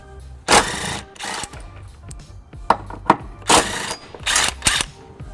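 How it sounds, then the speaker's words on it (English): A 14mm socket wrench removes tow hook bolts on a 2002 Lexus RX300, with bursts of loud ratcheting clicks close up between short pauses and metallic clanks. "I've got a 14mm socket, and I'm going to remove these 2 bolts"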